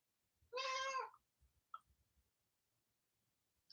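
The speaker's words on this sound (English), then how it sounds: "yes, Milton, I got two kitties" A house cat gives one clear, drawn-out meow close by, followed by a few faint chirps and soft clicks in an otherwise quiet room.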